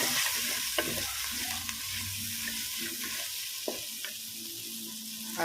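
Chicken pieces with chili powder and salt are stirred in a pan, a soft sizzle underneath occasional scraping and clinking strokes of a spoon, close and moderate in volume.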